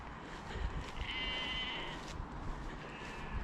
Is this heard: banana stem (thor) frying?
no